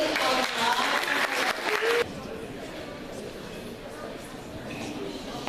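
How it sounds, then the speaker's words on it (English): Loud applause from a crowd at a town meeting for about two seconds, then it cuts off abruptly, leaving quieter room noise and faint chatter. "Can you give her a round of applause?"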